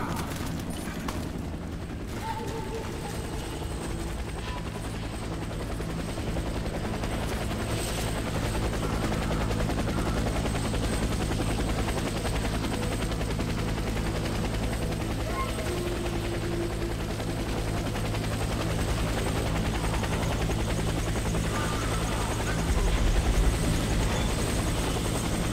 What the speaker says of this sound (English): Get to the helicopter for extraction.